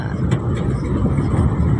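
Steady low road rumble inside a moving car on the way to Pililla, Rizal, a continuous engine and tyre drone with a couple of faint bumps, no talk.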